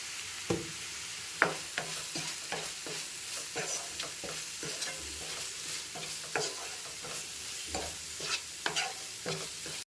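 Masala with a spoon of chili powder fries in a pan for a fish fry, with soft sizzling under frequent rhythmic scrapes and taps of a spatula stirring it. No talking.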